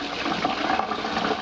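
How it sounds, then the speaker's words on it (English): Tap water runs loud and close as pumpkin seeds are sloshed around in a strainer, a continuous rushing splash with no voices. "Just turn on the water and slosh them around so there's no meat on them."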